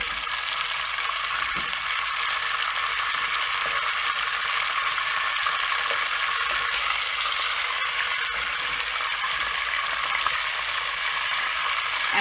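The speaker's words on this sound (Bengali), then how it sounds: "খুবই হালকা ভাজা মাথাটাকে এপাশ পাশ করে দেবো" Murray cod fish head frying in hot oil, a steady, close sizzle and crackle that holds evenly throughout with no talking.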